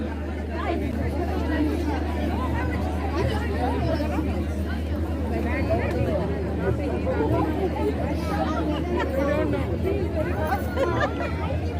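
Dense crowd chatter at a Ganesh festival in London, a steady babble of many overlapping voices with a low constant hum beneath, continuous and moderately loud throughout.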